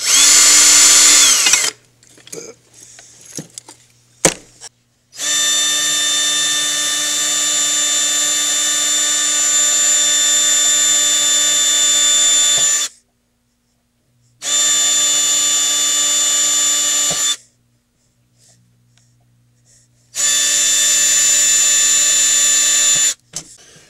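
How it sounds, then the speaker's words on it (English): Power drill boring a row of evenly spaced holes with a single bit while making claws, loud whining bursts of several seconds each separated by short pauses, no voices. "you can drill with the same drill bit"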